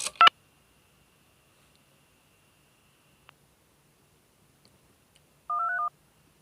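A GPO 746 rotary telephone converted to touch-tone gives a short burst of dialing tones, then near silence with faint clicks, then a single clear keypad tone pair; close and isolated.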